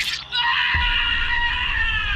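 A man screams madly in a dramatized story effect, a loud, sustained, shrill wail that holds steadily for about two seconds with a low rumble joining partway through.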